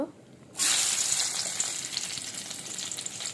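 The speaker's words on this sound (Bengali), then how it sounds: "কড়াইতে তেজপাতা দিলাম, এরপরে একটু পেঁয়াজ কুচি দেব" A bay leaf and chopped onion hit hot oil in a wok, bursting into a loud sudden sizzle after a quiet moment, then a steady hiss of frying that slowly eases.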